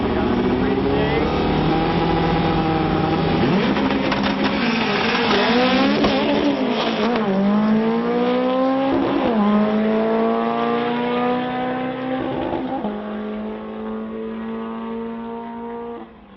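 Volkswagen Beetle race cars drag racing at a Bug-O-Rama event, engines loudly revving and accelerating with rising and falling pitch sweeps, close and sustained, with faint crowd or announcer voices underneath.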